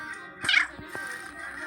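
A cat meows in a cat-care simulator video game, a couple of short, fairly clear mews standing alone over quiet background.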